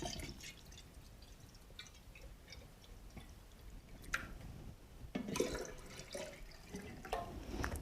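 Water trickles and drips into a flower arrangement vessel holding hydrated garden flowers, faint and close, with a few brighter splashes toward the end.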